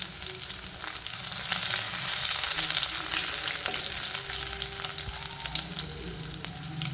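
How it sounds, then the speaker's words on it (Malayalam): Crushed garlic, curry leaves and dried red chillies fry in hot oil for a potato mezhukkupuratti, giving a steady, dense sizzle with occasional spatula scrapes and no talking. "അതിനുശേഷം വെളുത്തുള്ളി ചതച്ചത് ഇട്ട് കൊടുക്കുന്നുണ്ട്"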